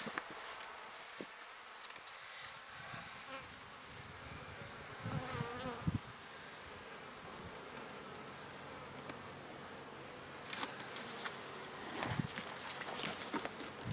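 A soft, steady insect hum of honeybees inside a hive during an inspection fills the air, with occasional light knocks and shuffling nearby.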